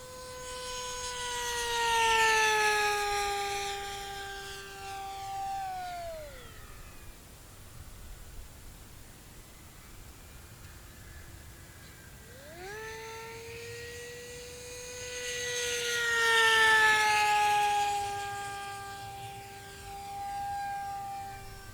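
A Durafly MFX Racer RC plane (715/815mm) at full throttle gives a loud, high motor whine. It swells on two close passes, then fades and falls in pitch while the plane is far away between them. No one talks.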